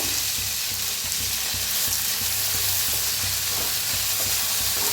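Chopped tomatoes and coriander frying in oil for masale bhaat, a dense, steady hiss of sizzling close by with faint stirring underneath, no talk.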